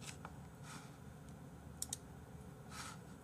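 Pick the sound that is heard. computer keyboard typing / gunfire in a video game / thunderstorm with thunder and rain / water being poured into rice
computer keyboard typing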